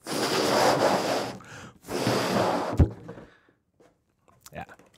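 Someone blows air into a balloon to inflate it: two long, breathy, forceful exhalations close to the mic, followed by a short pause and a few quiet sounds.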